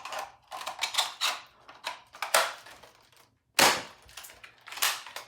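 Nerf blaster firing a foam Rival round, a series of sharp close snaps and clacks as it is loaded and fired, with one louder pop near the end.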